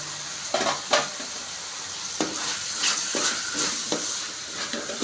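Mushroom fried rice stir-fried over a high flame, a steady sizzle under repeated scraping and clanking strokes of a spatula against the pan, close and moderately loud.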